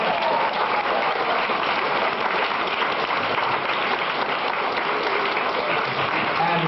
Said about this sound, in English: How about a round of applause for Gorbachev?